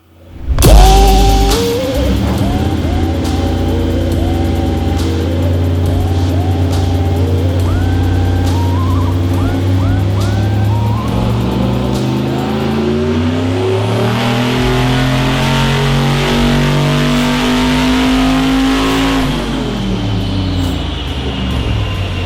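Turbocharged Chevy V8 in a 1953 Ford F100 running on a dyno, loud and close, climbing through a long sustained rev with a rising roar, then easing off near the end.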